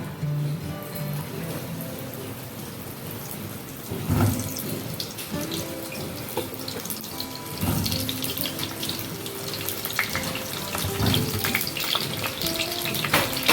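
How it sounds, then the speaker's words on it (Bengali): Pieces of pointed gourd fry in hot oil, a steady close sizzle with scattered crackles and pops that grows busier toward the end, with no talking. "তেল গরম হয়ে গেছে, এবার আমি আস্তে আস্তে পটলগুলো তেলের মধ্যে ছেড়ে দেব"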